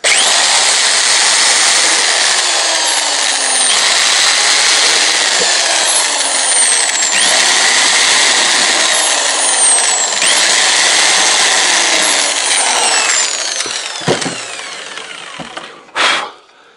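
A power drill bores holes into a wooden beehive body frame, a loud continuous high whirring with repeated rising and falling pitch sweeps as each hole is cut, stopping near the end with a couple of short knocks.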